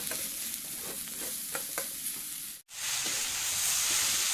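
Spring onion greens are stirred into a spiced masala with turmeric, frying steadily in the pan; a continuous close sizzle carries scraping strokes, briefly cuts out, then returns louder and hissier.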